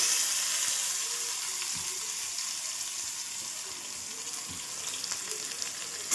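Chopped onion, chilli and tomato frying in a pan over a cumin tempering for khichuri, giving a loud, steady, close sizzle that runs throughout with a few faint knocks.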